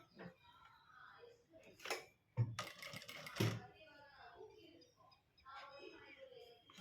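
A sewing machine stitches a blouse in a few short, loud bursts of rapid mechanical clatter, separated by stretches where someone talks close by.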